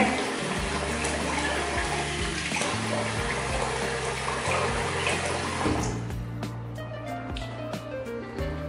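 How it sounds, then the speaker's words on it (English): Tap water runs steadily and loudly into a basin while someone rinses off after a shave, a continuous close splashing rush that eases slightly near the end, with a few drips. "I'll rinse off."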